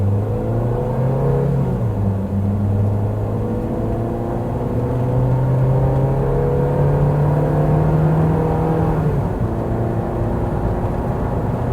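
A 2016 Daihatsu Grand Terios engine pulling at full throttle from inside the cabin, a loud steady drone rising in pitch as the car accelerates, with a brief dip near the end.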